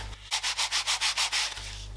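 A piece of soft packaging foam rubs against a watch box in about eight quick, even back-and-forth strokes, close and distinct over a quiet background hum.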